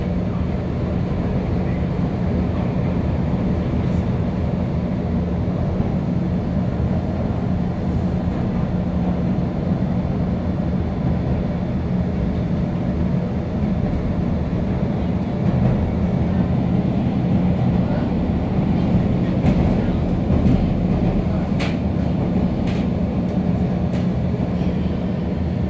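Riding aboard a Chicago L Orange Line train bound for Midway, a loud continuous rumble and rattle of wheels on track fills the car, steady throughout with faint clicks and no clear speech.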